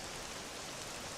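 Steady rain in the video game Dragon Quest, a dense, even hiss of falling drops with no breaks, soft and continuous throughout.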